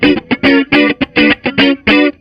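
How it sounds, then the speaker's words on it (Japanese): An electric guitar plays choppy rhythmic chords through an amp with a chorus effect on the backing tone, about eight loud, distorted stabs in a short, clean groove. "今コーラスがかかってて、"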